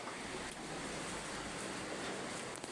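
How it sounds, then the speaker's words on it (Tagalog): Heavy rain pours steadily outdoors where pigeons are kept, a dense continuous hiss without pauses and no talking. "Sobrang lakas ng ulan mga idol."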